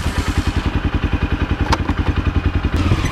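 A quad bike (ATV) engine starts and runs with a loud, close, steady pulsing chug, a rhythmic rough idle that grows a little heavier toward the end.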